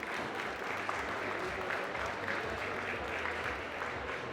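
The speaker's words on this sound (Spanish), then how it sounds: "Un fuerte aplauso" An audience at an annual industry meeting in Chile gives sustained, even applause for speaker Andrea Uribe, a full-room clapping wash heard from within the hall, with faint murmur underneath.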